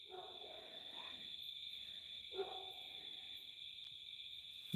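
Crickets trill in a steady, unbroken high chirping drone at night, joined twice by a low, hollow hoot-like call from a bird.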